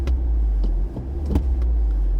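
A car engine idles with a low, close rumble, then gives a brief throttle blip while rev matching during a heel-and-toe downshift.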